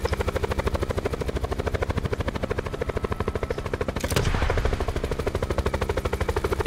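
A helicopter in the video game Black Ops 4 Blackout chops steadily and loudly with a fast rotor pulse throughout, broken near the middle by a sharp burst of gunfire or an explosion.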